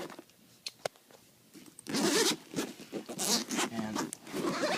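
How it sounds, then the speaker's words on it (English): A zipper on a ThinkTank Shape Shifter camera bag is pulled open in several raspy, close strokes, with a person's voice mixed in with the zipping. "and just unzip this"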